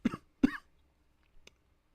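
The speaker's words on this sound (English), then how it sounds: "Still dealing with this cough." Two quick, close coughs from a man on a football podcast, a short pause, then a faint throat sound in an otherwise quiet room.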